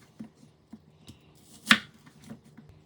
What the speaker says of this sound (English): Cut the half of the onion into fewer segments.